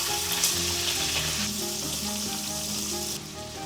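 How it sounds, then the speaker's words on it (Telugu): Sliced onions sizzle in hot oil in a pan together with garlic, ginger and cinnamon, a steady loud frying hiss that drops slightly near the end, with faint stirring and no talking. "అందులోనే 2 ఉల్లిపాయలు ముక్కలుగా వేసుకొని అన్నీ బాగా వేయించుకోండి."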